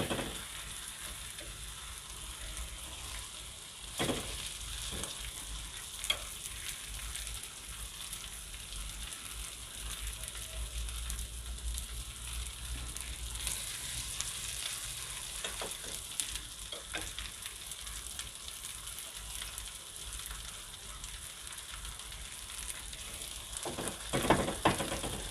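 Small breaded panne pieces fry in a lightly oiled pan, giving a steady, close sizzle and crackle the whole way through, with a few brief clinks and stirring noises.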